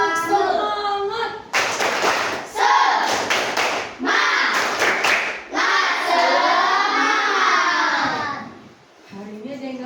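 Children in a classroom clapping along to a class cheer: loud, close bursts of rhythmic clapping mixed with young voices chanting together, then a brief pause at the end.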